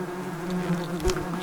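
Yellow jacket wasps buzz inside their large nest, a close, steady drone with wavering tones and brief louder flutters, no voices.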